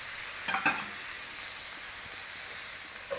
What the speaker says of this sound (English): Tomatoes and chili in there.